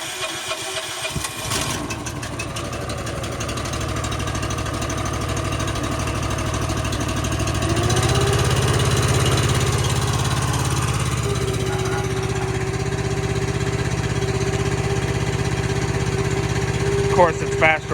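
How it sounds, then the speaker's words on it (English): A cold small engine with the choke on idles steadily, driving the lift cylinders of a gooseneck roll-off trailer; the engine's note shifts as the hydraulics load it, with a faint whine later and brief voice underneath. "Of course, it's faster when you rev the motor up, but it's cold and I don't want to rev it up high yet."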